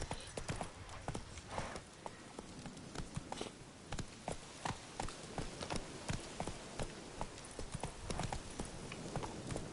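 Rhythmic hoofbeats of a horse galloping in The Witcher 3 video game, a steady clip-clop cadence repeating throughout at close range with no talking.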